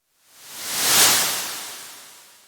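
Synthesized noise riser drenched in a huge hall reverb preset, a breathy wash that swells smoothly to a peak about a second in, then slowly fades with a lingering spacious tail.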